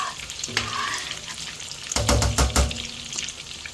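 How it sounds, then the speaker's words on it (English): A spoon stirs homemade Sicilian tomato sauce in a pot before meatballs go in, with a few soft scrapes and then a cluster of louder knocks and clatters against the pot near the end, plus a faint sizzle. "Stir my sauce because these meatballs are going right into the sauce."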